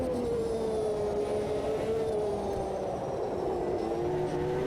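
A race car engine in the Automobilista 2 racing game drones steadily at high revs with a slowly falling pitch, loud and continuous with no talking.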